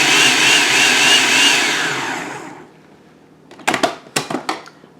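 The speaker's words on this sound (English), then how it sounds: "it should grind on up nicely with our onion" A food grinder chops onion for sweet pickle relish with a loud, steady motor whine for over two seconds that fades out, followed by several sharp clacks and knocks.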